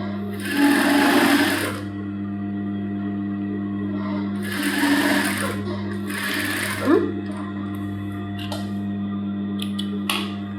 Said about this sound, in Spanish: Cosemos la otra pata